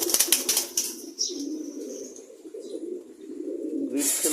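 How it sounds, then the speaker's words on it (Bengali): Female pigeons let out to feed on grit coo and flutter nearby, with a burst of wing flapping at the start and a soft steady cooing murmur after it. "মাদি কবুতরগুলো ছেড়েছি, আজকে ওদেরকে গ্রিড খেতে দিয়েছি"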